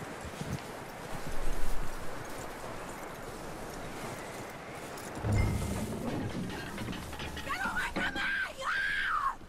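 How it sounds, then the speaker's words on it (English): Horse hooves clip-clopping in the Red Dead Redemption 2 video game, a few soft steps near the start and mid-clip amid game ambience, with speech and a brief high-pitched cry toward the end. "That looks like a decent horse."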